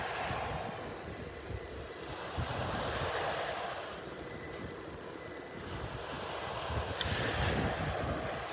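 Ocean surf rolling onto a beach in North Naples, Florida, a steady broad wash of breaking waves with gentle swells in loudness, mixed with wind buffeting the microphone and no voices.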